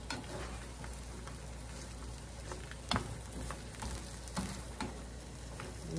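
Squash pieces sizzling and crackling in melted butter in a pan, with occasional sharp clicks and scrapes as they are tossed around, close and fairly quiet with no talking.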